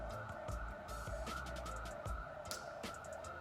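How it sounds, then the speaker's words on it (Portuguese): An ambulance siren wails at a distance, its sustained steady tone holding across the whole stretch beneath faint, muffled traffic and room noise. "É uma ambulância, pessoal."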